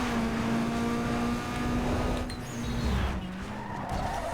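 A race car's engine drones steadily while its tires skid and squeal through a turn in Need for Speed Underground 2, the engine note dropping near the end, with no talk over it.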